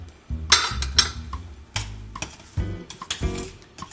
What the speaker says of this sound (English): And in with our milk. Give this a stir.